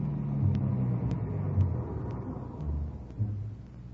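A car in an old-time radio drama pulls away with a steady low engine rumble, swelling slightly and settling, faint periodic clicks above it, no voices.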